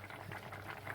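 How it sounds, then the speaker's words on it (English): Broccoli and potato soup on a very gentle simmer, a soft continuous bubbling with small irregular pops, close but quiet, no voices. "while it's sort of quietening down there, just on a very gentle simmer"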